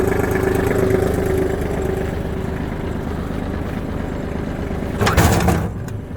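Kubota GT21 wheeled-tracked mini tractor with a 21 hp engine running steadily close by, a constant mid-pitched mechanical drone with a brief louder burst of clatter near the end.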